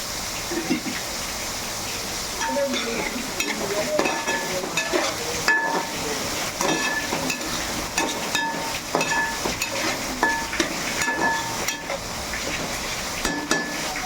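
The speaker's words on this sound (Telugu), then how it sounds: "ఉల్లిపాయలు మనకి బ్రౌన్ కలర్లో వచ్చేటట్టుగా మనం వేసుకోవాలి" Onions sizzle and crackle in a hot pan with a pinch of salt, a steady frying hiss running throughout with scattered clinks and scrapes of stirring, fairly close and continuous.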